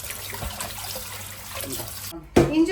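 Small mutton pieces being rinsed in water: continuous splashing and sloshing liquid with a faint trickle, ending in a sudden louder splash.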